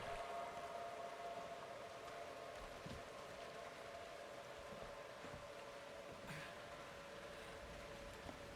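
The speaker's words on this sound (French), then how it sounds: "je suis retourné sous la pluie de sang" Steady blood rain in the video game Outlast 2 hisses across the whole clip, with a faint sustained tone running beneath it and occasional low thumps.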